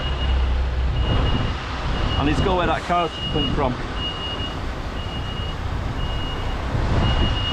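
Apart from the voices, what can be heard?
reversing vehicle beeps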